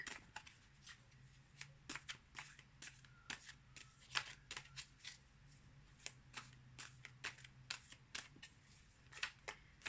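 Tarot cards being shuffled close up, soft quiet riffles and flicks in irregular bursts over a faint steady hum.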